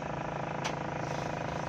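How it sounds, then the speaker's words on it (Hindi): A steady, close engine drone fills the cabin of a Mahindra Scorpio, with faint repetitive rattling from inside the dashboard riding under the hum and a brief sharp tick partway through. "जो स्कॉर्पियो में आवाज़ आ रही थी ना घटर घटर करके डैशबोर्ड के अंदर से"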